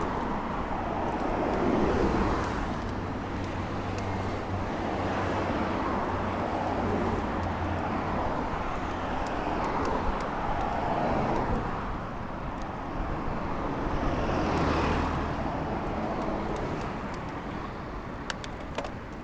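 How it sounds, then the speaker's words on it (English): Linimo magnetic levitation train gliding along the elevated track overhead near a station, heard from a road below during a bike ride; a broad, steady whoosh with a low hum, mixed with traffic and wind noise throughout. "this is a station for the linimo, the magnetic train. You might be able to hear it. It's going above us right now."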